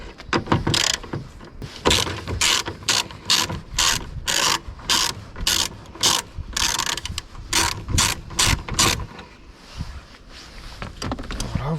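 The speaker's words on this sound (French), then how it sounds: "vous enlevez le boulon" A socket ratchet with a 10 mm socket clicks steadily in quick bursts while undoing a bolt behind a small access panel on a BMW 1 Series F20 tail light, loud and close, with a quieter pause near the end.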